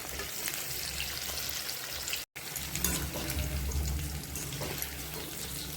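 Besan pakora fritters with coriander, curry leaves and green chilli frying in hot oil, a steady close bubbling sizzle that runs alone and drops out briefly partway through.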